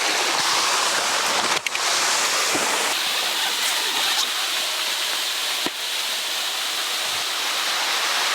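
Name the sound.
waterfall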